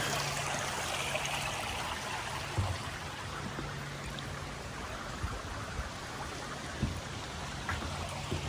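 A forest stream in Canada flows and trickles steadily, faint and unbroken, with a few small splashes and drips and no voices.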